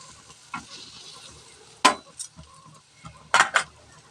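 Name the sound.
pomfret fish frying in a little oil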